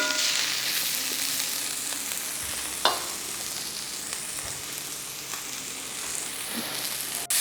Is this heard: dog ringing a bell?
no